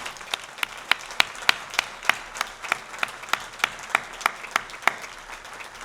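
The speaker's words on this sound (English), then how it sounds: "Let's have a round of applause and in welcome to all of our new faculty joining FDU" Audience applause at a university academic convocation welcoming new faculty, a continuous clapping wash with sharp, loud individual claps standing out in a quick, regular rhythm.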